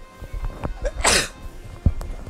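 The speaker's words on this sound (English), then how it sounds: "Oh, just sneezed." A single sharp sneeze bursts out mid-clip during a Fire Emblem: Radiant Dawn gameplay session, loud and close, with quieter game sounds and a soft thump around it.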